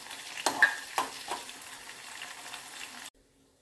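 Dried red chillies frying in hot oil for a Kerala thiruvathira puzhukku tempering, a steady close sizzle with a few sharper spattering bursts early on, cutting off abruptly near the end.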